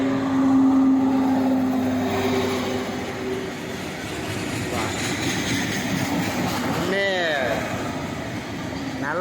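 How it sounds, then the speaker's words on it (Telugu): A new Indian Railways electric locomotive passes near a small railway station's level-crossing gate, a steady rumble over the whole stretch with a rising tonal sweep near the end, while people talk throughout. "ఇది కొత్త ఇంజిన్ అండి ఎలక్ట్రికల్ది ఇండియన్ రైల్వే"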